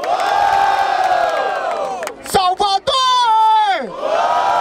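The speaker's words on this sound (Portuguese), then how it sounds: "Barulho para as rimas do Preto" Crowd at a Brazilian rap battle in Barueri cheering and shouting loudly, sustained voices with a few sharp breaks and a rising-then-falling collective yell.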